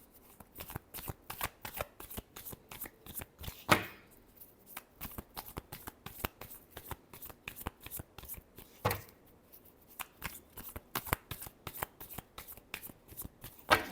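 Tarot cards being shuffled by hand in a steady run of quick, crisp riffles and flicks, with a couple of louder snaps and short pauses between bursts, close and fairly soft, no voices.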